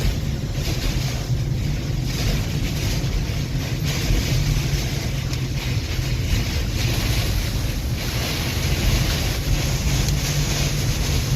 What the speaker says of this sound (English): Right now, at least 100-mile-an-hour RFD are bearing down on us.